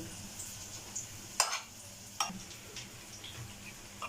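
A chicken and cheese filling mixed with red and green chili is stirred in a bowl, with soft scraping and a few sharp spoon taps against the side; the sounds are close and fairly quiet, and no one speaks.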